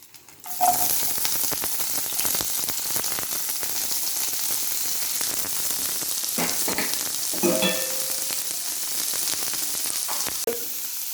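Two large onions sautéing in oil for egg semiya with bay leaf, a steady close sizzle running throughout, with scattered stirring clinks and scrapes of a utensil in the pan.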